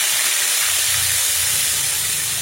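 Vegetables and eggplant sizzling in hot oil while frying for a Minang sambal, a steady bright hiss filling the whole clip with a low bubbling underneath, close and continuous, no talking.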